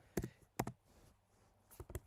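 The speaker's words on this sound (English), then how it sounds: "the typing's not very good" Keyboard typing in an indoor room: a few separate clusters of sharp clicks, with a short burst near the start, another a moment later, and a final pair at the end, fairly close and moderately loud against quiet background.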